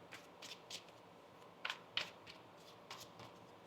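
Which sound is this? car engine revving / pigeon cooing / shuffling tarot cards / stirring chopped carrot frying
shuffling tarot cards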